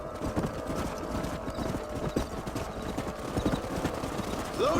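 Horses trot in Red Dead Redemption on PS4, their hooves making a busy, continuous clip-clop close by, with a whinny near the end and voices in the background.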